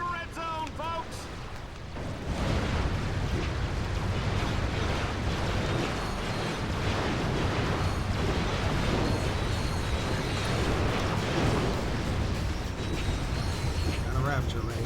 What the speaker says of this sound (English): Oh, the explosion, the gunfire, the carnage.